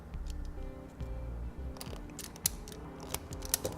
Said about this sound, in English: So we'll cut our wire in the middle, strip back some insulation